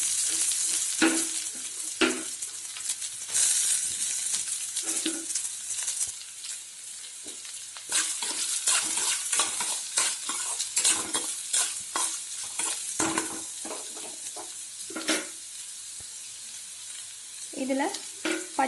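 Chopped onion fries in hot oil with popped mustard seeds and urad dal for red aval upma, a steady close sizzle broken by repeated stirring scrapes and clinks throughout.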